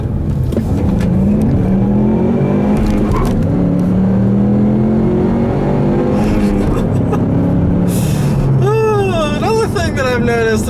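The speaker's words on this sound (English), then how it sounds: "I'll leave you guys with a nice little acceleration here" A loud Ford Mustang engine with a Cobb tune revs and pulls hard, its pitch climbing through gear changes, close and continuous from start to finish.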